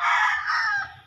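A rooster crows loudly and close by, one sustained call that rises and trails off, with no other sounds around it.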